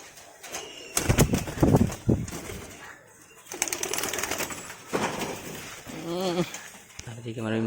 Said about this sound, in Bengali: চারিদিকে আমার ওই মুখী পায়রাগুলো আছে